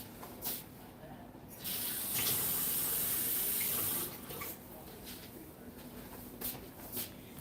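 Water runs from a tap into cornstarch in a home kitchen, a soft hissing pour that swells for a few seconds in the middle, surrounded by quieter clinks and handling noises.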